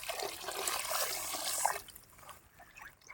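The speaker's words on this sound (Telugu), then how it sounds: "ఇంకొద్దిగా నీళ్ళు అయితే పోసుకుంటున్నాం" Water trickles and splashes steadily for a couple of seconds as it is poured into raw tamarind soup (pachi pulusu), then the pouring stops and only faint, quieter rustling remains.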